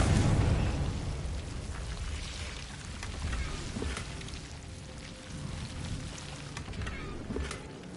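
A Confringo spell in Hogwarts Legacy bursts with a loud, deep blast at the start, fading into a crackling, rumbling tail with scattered pops and sizzles, no voices.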